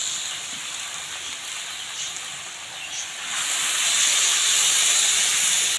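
Water is poured into a hot pan of jackfruit and meat curry, a loud continuous hiss of steam that swells and grows stronger partway through.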